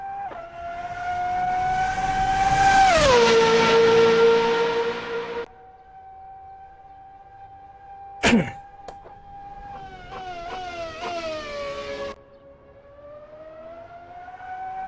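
A racing car engine in a video game, a Formula Beta 2008 car heard from outside, revs high, drops, then climbs again, loud and steady, with one sharp bang partway through.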